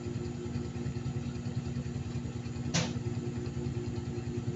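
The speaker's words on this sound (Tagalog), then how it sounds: "Motor yata yun." A motorcycle engine running outside produces a steady low rumble throughout, fairly quiet and distant, with one brief sharp burst near the end.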